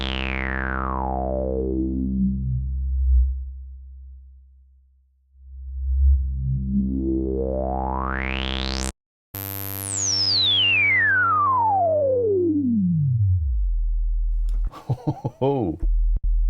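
Roland Jupiter 4 synthesizer plugin with its resonance raised, playing bright, buzzy resonant filter sweeps that dive down to a deep bass, climb back up, then fall again before short warbling blips, loud and without talk.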